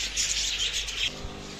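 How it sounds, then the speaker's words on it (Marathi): Small sparrows at a zoo near Shirdi chirp in a quick bright burst of overlapping calls, close by, which stops abruptly after about a second, leaving a low background hum. "इथं बारीक वेगवेगळ्या चिमण्या मस्त पैकी"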